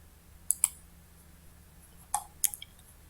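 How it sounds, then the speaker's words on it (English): Computer mouse buttons clicking, a few sharp, quiet, close clicks in small clusters against near silence. "right click and view page source"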